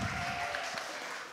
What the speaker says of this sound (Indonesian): Beri tepuk tangan untuk Nasya.